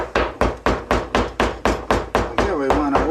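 Hammer blows beat on a concrete sinker mold filled with Quikrete vinyl concrete patch, about ten sharp, evenly spaced strikes, then a steadier scraping rumble near the end.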